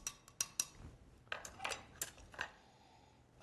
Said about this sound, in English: I'm going to give it a little stir, kind of incorporate it, loosen up the cucumber in the drink.